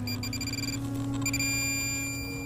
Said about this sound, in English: the way that you find out is by using your pinpointer, which is a handheld metal detector